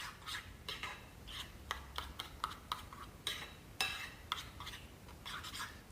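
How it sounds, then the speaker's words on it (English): A utensil stirs eggplant dip with Greek yogurt in a bowl, giving soft, irregular scraping and light clinking taps against the bowl, fairly quiet and close with no talking. "Give it all a good mix."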